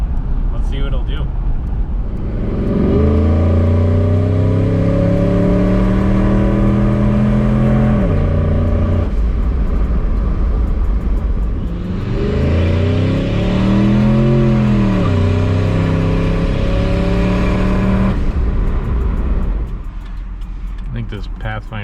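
A turbocharged 2003 Ford F150 pickup accelerates hard through rising gears in two long pulls, engine drone and turbo whine climbing and dropping at each shift, loud and close from inside the cab.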